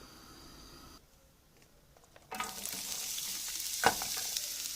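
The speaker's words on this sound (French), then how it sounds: "Pour commencer sur une poêle, on met l'huile à chauffer et ensuite on ajoute l'oignon." Chopped onion dropped into hot vegetable oil in a frying pan, bursting into a loud, steady sizzle after a quiet moment, with a brief clatter as the pan is stirred, close and without talk.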